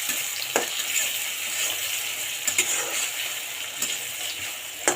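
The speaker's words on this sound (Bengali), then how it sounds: "এখানে আমার পেঁয়াজটা বেরেস্তা দিতে থাক" Onions fry in reused fish-frying oil for a rohu fish roe curry, a close, steady sizzle and hiss broken by several sharp scrapes and clinks of a spatula stirring the pan, with no talking.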